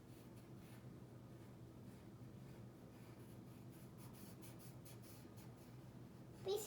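Pencil drawing a circle on paper, a soft continuous rubbing scrape over low background hum, with a brief louder scratch right at the end and no talking.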